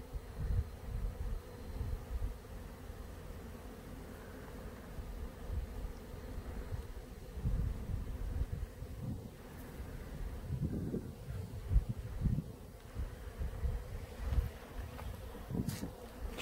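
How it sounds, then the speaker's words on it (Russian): Bumblebees gather pollen from low ground-creeping plants outdoors, their steady buzzing hum rising and falling as individual bees pass close to the microphone, with light wind in the background. "Вот, смотрите, как эти бамбуби собирают пыльцу."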